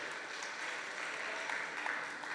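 At a PDCI-RDA women's political gathering in Cocody, an audience claps steadily at a distance, soft and continuous, with no speech.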